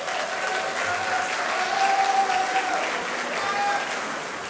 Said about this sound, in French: Je crois qu'on peut les applaudir et les remercier pour cet accueil.